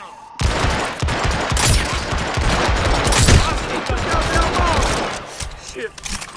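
Video game gunfire from Hitman Absolution rattles in dense, continuous bursts of rapid shots, loud and close, with shouting voices mixed in throughout.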